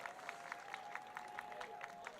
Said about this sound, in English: Mascot Loco is leading a clapping cheer in the crowd.